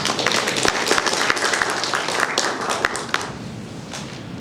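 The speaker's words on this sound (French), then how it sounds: "Mesdames et messieurs, ça s'applaudit s'il vous plaît" Audience applause at a formal ceremony, a sustained roar of many hands clapping close and loud, thinning slightly toward the end.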